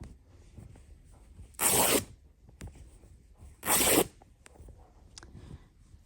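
An old duvet's fabric is ripped into cloths twice in quick, loud bursts, each tear lasting under a second, with quiet rustling in between.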